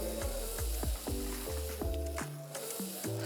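Bacon-wrapped food sizzling and crackling in a hot pan, with repeated sharp spits and pops over a steady frying hiss, quiet and close, no talking.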